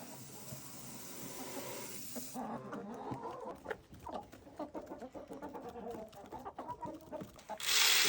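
Hens clucking and murmuring in a steady, overlapping chorus close by, with scattered louder clucks and a burst of rustling noise at the end.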